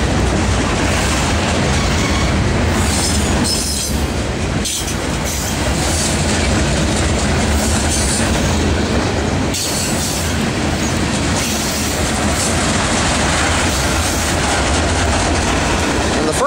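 A Norfolk Southern 13R manifest freight train rolls past at close range, a loud, continuous rumble of rail cars with clickety-clack wheel beats and some squealing, running unbroken throughout.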